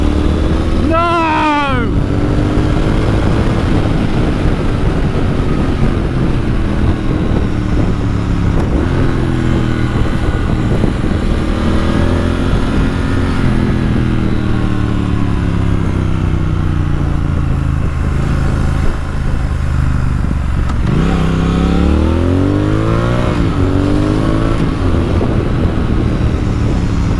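A 2019 Triumph Speed Twin motorcycle engine revs loudly and close up, its pitch sweeping up and down through several throttle blips over a steady rumble, with a person talking over it.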